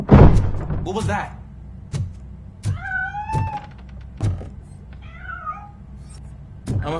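A house cat meows several times in short, rising and falling calls, close and clear, between sharp knocks and thuds like a door being handled.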